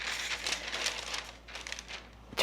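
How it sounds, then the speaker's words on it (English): Soft crinkling and rustling of parchment paper being handled up close over a lasagna, in a few uneven bursts with no talking. "I'm first of all going to cover it with a piece of parchment paper"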